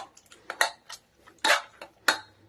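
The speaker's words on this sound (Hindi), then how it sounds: "ये सारी चीजें जो प्याज टमाटर थे इनको अच्छे से मैश कर लेना है" Several sharp metallic clinks and scrapes of a utensil against a pressure cooker pot while mashing onions and tomatoes, irregular and fairly close, with quiet pauses between strokes.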